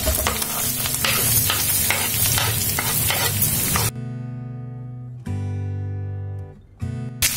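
Sliced onions go into hot oil already frying with dried red chilies, peanuts, green chilies and curry leaves for poha. A loud, close, continuous sizzle with stirring scrapes breaks off abruptly, then resumes in short segments.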